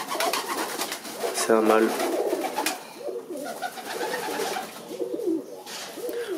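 Pigeons at a pigeon breeder's loft coo close by in soft repeated phrases while someone speaks briefly over them.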